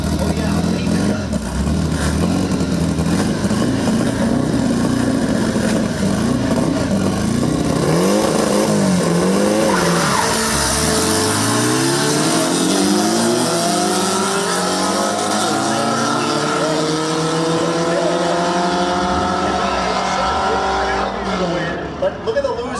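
At a drag strip, a sand rail and a Volkswagen Bug launch and race, with engines revving hard, rising through gears and fading into the distance, while an announcer talks over much of it.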